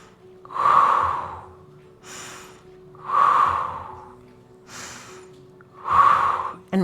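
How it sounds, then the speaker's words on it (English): Nasal inhalations during a guided breathing exercise: three slow, loud breaths drawn in through the nose with softer exhales between, close and with no talking. "Inhale through the nose."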